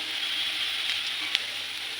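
Potatoes frying in a pan give a steady, even sizzle throughout, close and moderately loud, with no talking.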